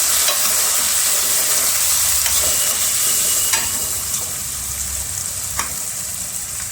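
Tomatoes fry with onions in a pan for a whole masoor dal, a loud, continuous sizzle with a few faint stirring clicks, easing slightly toward the end.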